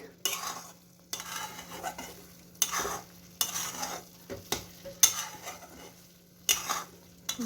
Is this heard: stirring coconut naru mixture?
yes